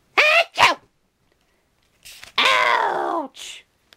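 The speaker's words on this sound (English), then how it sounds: "I have fabulous sneezes!" Cartoon character sneezing in an animated comedy, two quick high-pitched vocal bursts followed after a pause by a long drawn-out exaggerated sneeze and a short trailing cry, loud and close.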